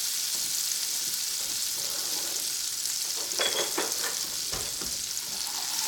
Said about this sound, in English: now I'm just gonna go ahead and add 3 tablespoons of pesto back to this hot pan